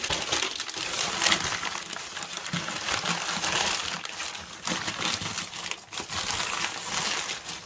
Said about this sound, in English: I'm going to have some more paper to just kind of cover up the pumpkin.